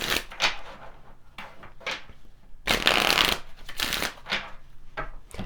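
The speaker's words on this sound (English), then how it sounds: "Let's go ahead and pull some Kipper as well here and see what Kipper cards want to come forward for you" Tarot and Kipper cards being shuffled up close, a series of soft riffling bursts and papery slaps with brief pauses between them, no voices over the card handling.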